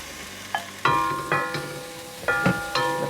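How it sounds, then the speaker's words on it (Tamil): Washed anchovies tipped into cabbage frying in oil, giving several sharp bursts of sizzling and clatter over a steady background fry, close and fairly loud. "இப்போ நான் கழுவி வச்சுருந்த நெத்தலி அதை இதுக்குள்ளே சேர்க்கிறேன்."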